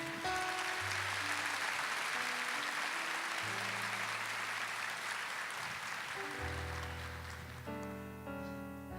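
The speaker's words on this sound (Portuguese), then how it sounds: "Pode aplaudir?" A church congregation applauds during a sermon, a steady broadband wash of clapping that fills the whole stretch, with sustained keyboard or organ tones rising beneath it toward the end.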